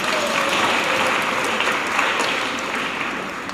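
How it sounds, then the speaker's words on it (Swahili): A church congregation at a Catholic Mass applauds, steady dense clapping from many hands that holds evenly and eases slightly toward the end. "Pigeni makofi baba."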